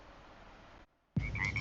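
A frog croaking sound effect plays in a podcast about frogs: a quiet hissy stretch, a short silence, then a sudden close, loud burst of croaking with rising chirpy tones.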